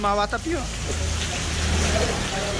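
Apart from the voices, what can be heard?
heavy rainstorm while driving Honda Civic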